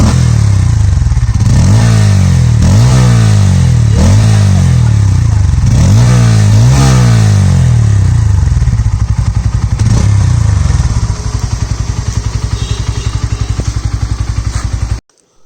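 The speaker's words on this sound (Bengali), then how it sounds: "তো বন্ধুরা আপনাদের স্টক এক্সস্টের যে সাউন্ডটা আছে সেটা আপনাদের শুনিয়ে দিলাম" Stock exhaust of a Bajaj Pulsar N150 motorcycle, loud and close, revved in repeated rising bursts before settling into a steady idle burble, with no voices.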